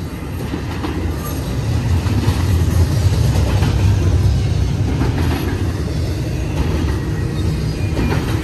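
A BNSF long stack westbound intermodal freight train on main track 2 at Verdemont, Cajon Pass, rolls past steadily with loud continuous rumble, wheel clatter and faint flange squeal, no voices.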